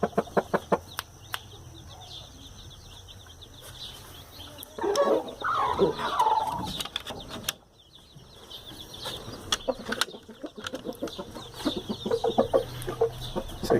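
A black rooster in moult kept with other roosters, heard as clucks and short calls close by against a quiet farmyard background, with a flurry of louder bird sound and wing movement in the middle.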